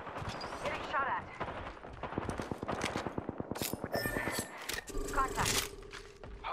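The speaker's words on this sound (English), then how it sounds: "Getting shot at." Rapid bursts of gunfire in the video game Apex Legends rattle out as close, fast repeated shots, with mechanical clicks and a game character's voice speaking between the volleys.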